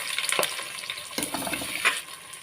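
Chopped onions hit hot oil already crackling with cumin seeds and broken dried red chillies in a large pan, giving a close, busy sizzle with sharp spits and stirring scrapes throughout.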